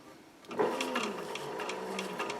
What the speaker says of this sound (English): I don't want to start sewing extra layers together.